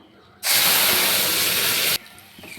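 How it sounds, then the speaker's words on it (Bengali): Whole cumin, dried chilli and bay leaf hit hot oil with a sudden loud, steady sizzle lasting about a second and a half, then it drops to a quieter crackle. "তরকারির জন্য আমি ফোড়নে দিয়ে দিব গোটা জিরে, শুকনো লঙ্কা তেজপাতা"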